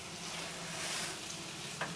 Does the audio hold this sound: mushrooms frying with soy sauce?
yes